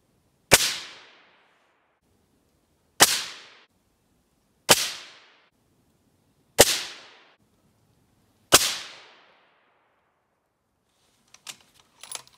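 Five rifle shots fired at a 100-yard target, each a sharp loud crack with a short decaying tail, spaced about two seconds apart, followed by faint clicks of handling.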